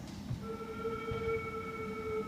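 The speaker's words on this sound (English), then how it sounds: "they put their hand over the end, which helps them make a low noise" A student's flute headpiece blown with a hand covering the open end, giving a steady low, breathy tone that starts after a short pause and holds to the end in a quiet room.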